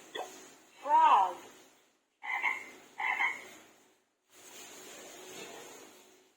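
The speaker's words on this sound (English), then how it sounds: "Frog." A frog croaks from a toy early-education card device. Several rhythmic croaks and chirps come in short bursts, followed by a softer, longer croaking stretch, all fairly close and heard alone.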